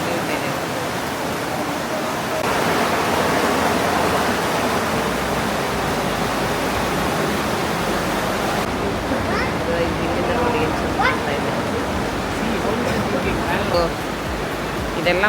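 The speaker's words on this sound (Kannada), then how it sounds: "ಇದು ನೋಡಿ ಫಾಲ್, ನೀರೇ ಇಲ್ಲ, ಸ್ವಲ್ಪ ಚಿನಿ ಮಿನಿ ನೀರು ಬೀಳ್ತಾ ಇದೆ" A small waterfall with only a thin trickle of water, in Partnach Gorge, makes a steady hiss of falling and rushing water throughout, with faint voices in places.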